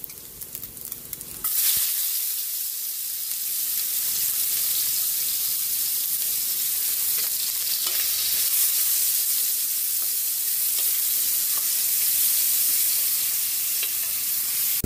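Ginger is dropped into hot oil rendered from the meat for batsoy soup, bursting into a loud, steady sizzle that continues without a break after a brief clatter at the start.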